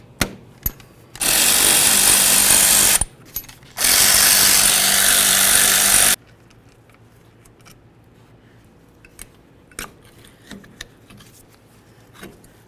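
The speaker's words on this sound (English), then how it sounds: "remove our caliper to caliper slider bolts" Removing the caliper slider bolts on a 1994-2004 Chevy S-10 with an impact gun: two loud, close bursts of rattling air-tool hammering, followed by quieter metallic clinks and small clatters.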